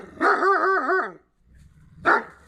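A wild canid barks and howls with one drawn-out wavering yelp-howl, then a short sharp bark after a pause, heard alone outdoors during trapping season in March.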